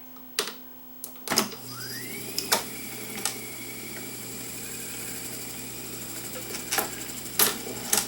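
An Akai M9 reel-to-reel tape deck motor starts after a few mechanical clicks and settles into a steady low hum, with scattered clunks and taps from the lever and transport mechanism over the top.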